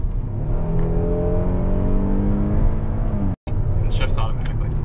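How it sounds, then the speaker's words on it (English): A 2021 Kia Telluride V6 engine revs up with rising pitch, holding a strained whine before cutting off abruptly; the rumble resumes with faint voices after. "this V6 doesn't sound bad if it's revved up."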